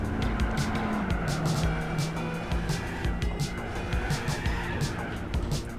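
Race cars in Gran Turismo 4 roar continuously with loud, sustained engine drone and shifting pitch as one car overtakes a Pontiac GTO, punctuated by brief tire squeals and scrapes throughout.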